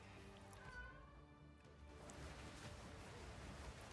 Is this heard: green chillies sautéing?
no